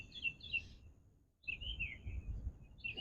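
Bird chirping nearby outdoors during dog training, with quick bright twittering phrases that come and go over low background rumble and handling noise.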